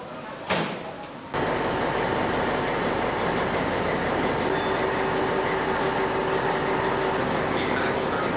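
A historic train running on rails along a cycle route in Friuli: a sharp thump, then a loud, continuous rolling rumble of wheels on track with a faint steady whine, close by, with no voices heard.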